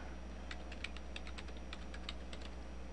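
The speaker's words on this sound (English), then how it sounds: "let's just type in" Rapid, irregular clicking of keys on a computer keyboard while entering a domain name in a setup window, close and steady over a low background hum, with no talking.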